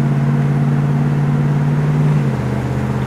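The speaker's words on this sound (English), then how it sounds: "We're going to take off. It's going to go 1, 2. As we accelerate, it'll go up to third gear." Ford Falcon with an automatic transmission pulling away, its engine droning as a loud steady hum that drops in pitch near the end as the gearbox shifts up, close up with no talking.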